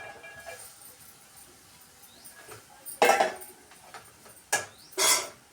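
Carrot pieces tipped into a pan with turmeric and mixed for a carrot curry, heard as a few sharp clattering bursts of food and utensil against metal over a quiet background.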